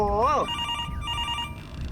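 A phone rings loudly in the horror game Mr. Hopp's Playhouse, with a warbling electronic trill followed by repeated bursts of ringing, while someone talks over it in surprise.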